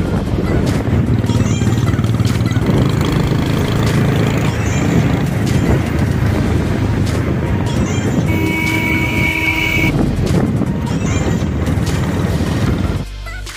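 A motorbike carrying two riders on the Tanakpur–Champawat road hums along with constant engine drone and heavy wind buffeting, close and steady, with a voice occasionally underneath.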